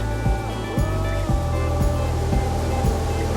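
Water runs through a fan pad cooling system in a mist chamber, making a steady, loud rushing wash with a regular pulsing throb beneath it, close by and continuous.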